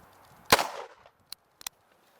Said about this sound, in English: You're shooting high. Just a little to the left, I think.